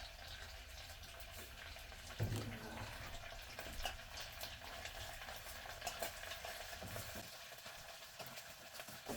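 Sliced onions with salt frying and being stirred in a pan, a steady close sizzle with scraping and clatter throughout, a sharper knock near the start.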